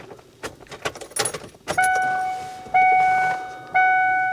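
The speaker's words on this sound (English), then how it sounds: "Turn the ignition off and then back on." Keys jingle in the ignition of a 2003 Ford Explorer with a crank-no-start fuel pump fault, then three loud, steady electronic chimes sound in succession as the ignition is switched off and back on.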